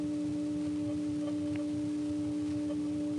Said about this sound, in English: This is the sound of one of my favorite carrier systems.